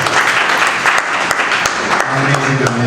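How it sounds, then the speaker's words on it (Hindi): A live audience at a gym-themed comedy show claps steadily and continuously, a dense even wash of applause with a voice briefly audible over it near the end. "सबसे पहले आप लोग अपने लिए तालियां बजा लीजिए।"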